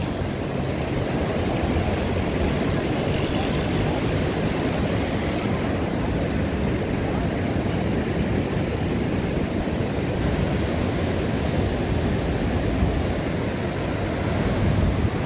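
Ocean surf breaking continuously at Balneário Camboriú beach, a dense steady roar of waves with no pauses, loud and close throughout.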